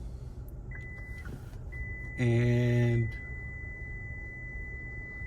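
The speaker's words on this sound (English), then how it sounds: "it's just gonna beep at me and tell me that it doesn't want to close the hatch" A 2026 Hyundai Palisade's electronic warning tone sounds once as the hatch refuses to close, a steady harmonic beep lasting under a second, with a thin high whine and a voice nearby.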